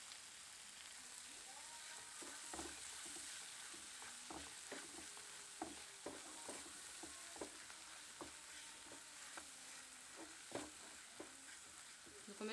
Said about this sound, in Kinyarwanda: dukomeze dukarange kugira ngo ibirungo byacu bibanze bishe neza.